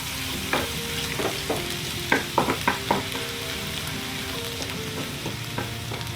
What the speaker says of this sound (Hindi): तो ऑयल गरम हो चुका है। सबसे पहले हम लोग लेते हैं गार्लिक,